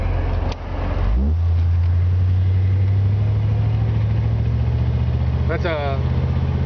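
A 1967 Ford Mustang convertible's engine drones steadily while driving, a low continuous hum heard from inside the open car, with a few brief mechanical and road noises over it.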